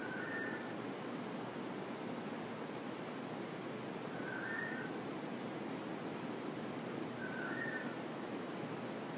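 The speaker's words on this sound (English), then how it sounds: "Symphony that the birds are offering." Birds chirp and whistle in short, sparse calls, faint and distant over a steady rush of surf.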